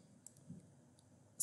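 A computer mouse clicks in a quiet room: a few faint, sparse clicks, then one sharper click at the very end.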